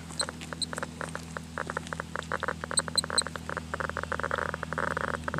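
Rapid, irregular clicking of a dosimeter near a radioactive hot spot in the Chernobyl-area countryside, dense crackling ticks over a steady low hum, with no speech.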